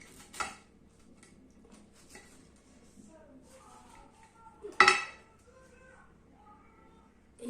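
Cutlery cuts into fish en croute on a serving plate, quiet knife and fork scrapes with a couple of sharp clinks against the dish, one especially loud near the end.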